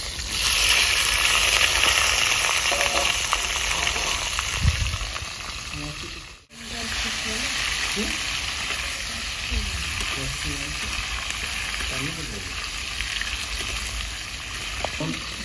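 Red and green capsicum sizzles and fries steadily in a pan while dragon chicken is cooked, with a continuous loud hiss, occasional stirring scrapes and a brief break partway through.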